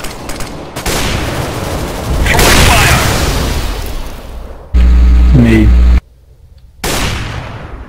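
Decoy grenade imitating gunfire in CS:GO on the Inferno map, a loud sustained stretch of rapid fake shots and booms with a brief pause, mixed with other game sounds and a computerized radio voice.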